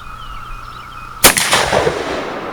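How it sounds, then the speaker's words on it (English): One close, loud shotgun blast that cracks out of a quiet outdoor background and leaves a rolling echo trailing after it. "now when you touch that gun's gonna go off."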